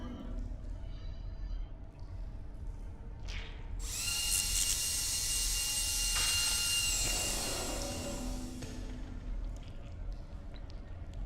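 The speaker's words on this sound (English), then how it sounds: "Drill on the pole." Drilling into a pole in the video game Stasis, a harsh whining game drill effect that rises suddenly, holds steady for several seconds and then cuts off, heard alone over a dim ambient background.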